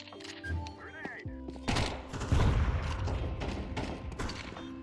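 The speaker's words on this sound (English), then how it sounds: "Grenade." An explosion followed by gunfire in a counter-terrorist shooter game after a bomb is planted: a sudden loud burst and low boom near the midpoint, with continued rattling shots and a voice talking over the chaos.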